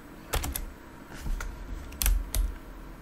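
Typing on a computer keyboard at a desk, a few quick clusters of key clicks with short pauses between them, close and fairly soft, with no talking.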